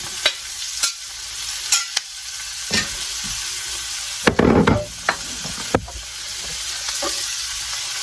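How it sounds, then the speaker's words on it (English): Steady sizzling of onions and peppers sautéing in oil, with occasional sharp clinks and scrapes of a utensil stirring the pan, no voices. "I got my onions and peppers in here, and my oil, and I'm going to saute these babies up"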